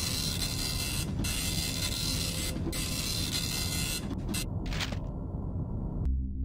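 Printer in The Henry Stickmin Collection video game, a loud continuous mechanical whirring and rattling drone broken by brief clunks, stopping abruptly near the end, with no talk.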